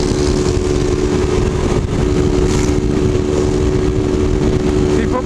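A car engine runs loud and steady while climbing a city avenue, a continuous rough roar with a constant drone and no clear breaks.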